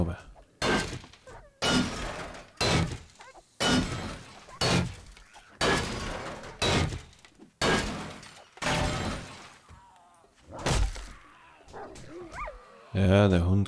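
A dog attacks a zombie in a video game, with repeated loud bursts of barking, snarling and crashing thuds, separated by short pauses and ending in a harsher tonal blast.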